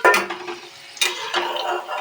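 Fried potatoes being lifted out of a frying pan while cooking a chicken dish, with scraping and clinking of a utensil against the pan over a soft background sizzle, in a few close, uneven bursts.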